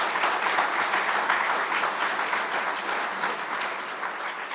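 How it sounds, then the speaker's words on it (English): Crowd applause for the governor at a public announcement in Buffalo, a thick, sustained roar of many people clapping that holds steady and eases slightly toward the end. "So let's give our governor another round of applause for that."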